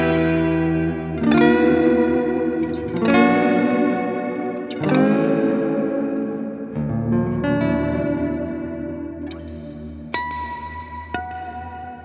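Electric guitar chords ring out through an Eventide H9 pedal's Blackhole reverb preset, lush and swirling, each strum blooming into long washy tails that overlap and slowly fade.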